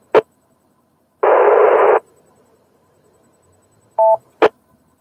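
On an amateur radio repeater, a blank transmission breaks the squelch as a burst of hiss lasting under a second. Short clicks come before and after it, along with a brief beeping tone, and no voice is heard.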